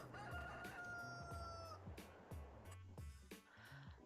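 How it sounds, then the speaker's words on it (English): Chickens in the farming game Farming Simulator 22 give off a steady run of clucks and a rooster-like crow, fairly loud and close, layered over low background game noise with no talk. "I'm getting some eggs from the chickens"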